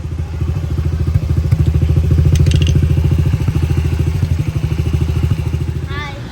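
A KTM 50 SX dirt bike engine runs close and loud with a rapid, buzzing two-stroke rattle, holding steady before easing slightly, while voices speak faintly underneath.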